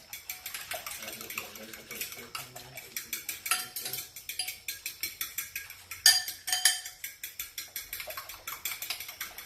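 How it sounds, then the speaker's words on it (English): A whisk beats egg and milk together in a bowl for homemade chicken fingers, giving quick, regular clinking strokes against the bowl that repeat steadily throughout, close and fairly loud, with no talking. "We're going to whisk the egg and the milk mixture together"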